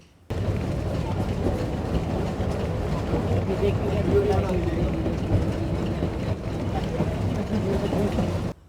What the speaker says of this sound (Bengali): আঁকাবাঁকা পাহাড়ি পথে ঘন জঙ্গল আর গাছপালার মাঝে পাতা ছোট লাইন ধরে বেশ গতি নিয়ে ছুটে চলেছে ভারতবর্ষের সব থেকে কনিষ্ঠ রেলগাড়ি